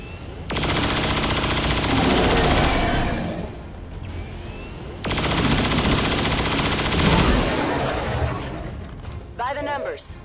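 Two long, loud bursts of rapid video-game gunfire, each lasting a couple of seconds with a short pause between, followed by a brief whooshing effect and faint voices.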